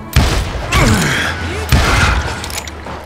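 Western gunfire in Call of Juarez Gunslinger, with a few heavy booming shots spaced about a second apart over a rumbling battle ambience, while a voice shouts between the blasts.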